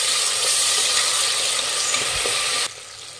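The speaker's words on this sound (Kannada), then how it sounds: "ಟೊಮೆಟೊ ಮೆತ್ತಗಾಗೋವರೆಗೂ ಫ್ರೈ ಮಾಡಬೇಕಾಗುತ್ತೆ." Chopped tomato frying and being stirred in a pan, a steady close sizzle with scraping stirs that drops off sharply near the end.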